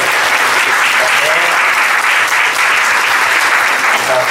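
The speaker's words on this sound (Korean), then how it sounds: "우리 큰 박수로 이제 격려해 줬으면 좋겠어요" Loud, sustained applause from a church congregation welcoming a newly ordained pastor, dense clapping throughout with faint voices beneath.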